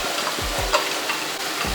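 Ingredients sautéing in a pan for a restaurant-style paneer dish, a dense steady sizzle with soft stirring scrapes and a few low thuds, close and even throughout, with no talk.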